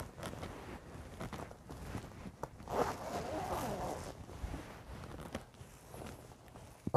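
An ASUS gaming laptop bag is unzipped and opened, with a zipper pull and rustling fabric handling heard close up among soft shuffling movements.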